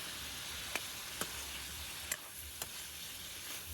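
Pork meat frying in oil in a pan, a steady low sizzle running throughout with a few sharp isolated pops or ticks scattered across it.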